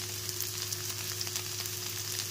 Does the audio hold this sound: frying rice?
yes